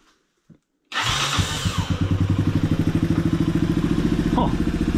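A vintage Honda dirt bike fitted with a swapped quad engine starts after a few quiet knocks, then runs at a loud, close, rapid chugging idle with steady pulsing beats.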